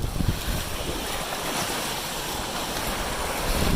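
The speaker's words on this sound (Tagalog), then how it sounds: "Lakas ng alon mga kalingap." Strong sea waves surging and crashing near an island shore, a continuous loud roar of surf mixed with gusting wind buffeting the microphone, with no talk.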